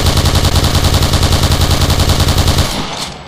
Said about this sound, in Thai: มันเป็นปืนกลอ่ะเนี่ย